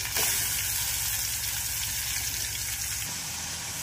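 Green chilli paste hits three spoons of hot oil in a pan for a chicken curry, sending up a steady, close sizzle that holds loud throughout and drops slightly near the end, with no talking.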